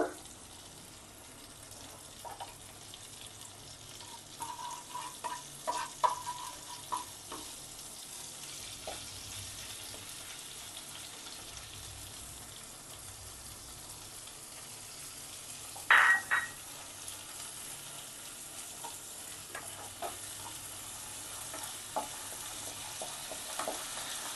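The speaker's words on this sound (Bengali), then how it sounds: "এরপরে গোবিন্দভোগ চালটাকে একটু নাড়াচাড়া করে নেব।" Gobindobhog rice fries in ghee with tomato and spices as it is stirred in a pan, giving a continuous low sizzle broken by occasional scraping and one sharper clatter of the spoon.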